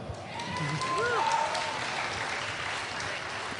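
Audience applause at a BlizzCon 2009 Diablo III panel, a dense steady patter of clapping from a crowd, with a brief tonal sound near the start.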